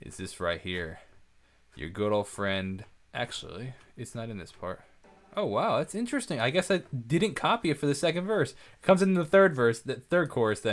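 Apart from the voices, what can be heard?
No everyday noise stands out behind the speech.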